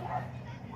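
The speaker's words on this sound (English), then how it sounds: "that dog is going after those ducks" A dog barks outdoors while chasing after ducks, a short yelping bark heard at moderate distance over background noise.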